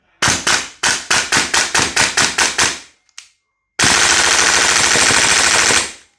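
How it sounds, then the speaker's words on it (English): Airtac HYP-9 HPA airsoft gun firing with ASG Evo magazines: a quick string of about a dozen loud, close, evenly spaced sharp shots, a short pause with one faint pop, then a sustained rapid full-auto burst lasting around two seconds. "we're just going to shoot it anyway"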